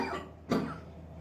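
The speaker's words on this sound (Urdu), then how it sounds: "دیکھا مجھے کھانسی آ گئی" A single sharp cough from a man, near and brief, rising suddenly out of quiet room tone and fading quickly.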